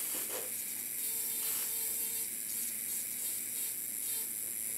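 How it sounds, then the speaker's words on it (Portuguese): A dental bur grinds composite resin on a Class IV tooth restoration, giving a steady, faint high-pitched whine with soft scraping contact throughout. "Então eu abaixo desde as arestas, área central, ó, sempre nessa inclinação com a broca."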